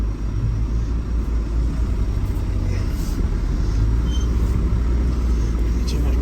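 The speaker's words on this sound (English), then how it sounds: "Right, hopefully I can drive off. I'm doing very well in this van, am I?" Van engine revving hard with its wheels stuck in a muddy farm field: a loud, steady low rumble that stays constant, close and continuous, with no talk.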